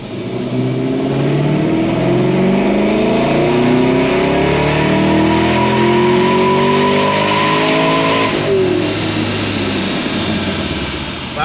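Supercharged LSA-powered Camaro engine revving hard through a dyno pull, a loud, sustained climbing roar with rising harmonics for about eight seconds before backing off and winding down.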